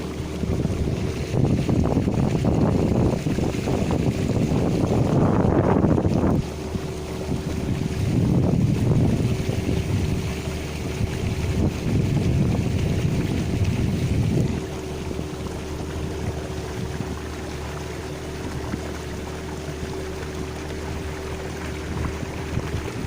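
A boat glides across the water near Vylkove in the Danube delta while wind buffets the microphone in heavy gusts, over a steady low rumble of hull and water that continues unbroken, with no voices.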